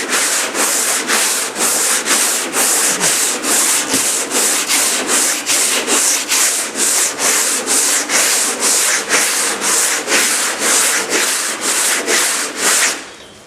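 Polyester body filler is hand-sanded with 80 grit sandpaper in steady, loud back-and-forth strokes, about two per second, a rhythmic rasping that stays close and continuous before stopping at the end.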